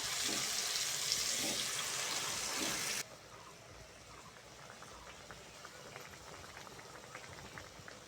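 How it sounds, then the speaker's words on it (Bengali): Running water rinses a plate at a kitchen sink, a loud steady splashing flow for about three seconds that then cuts off, leaving a quieter low bubbling of a pan on the stove while cooking small fish. "থালা ধুয়ে অল্প করে জল দিয়ে দেবো"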